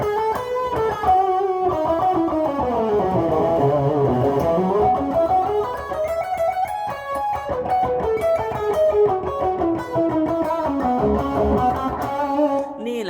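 A raw, buzzy distorted electric guitar through a Boss ME-80 with no cabinet simulator plays bending, wavering lead lines, sustained and loud with a harsh, unfiltered edge.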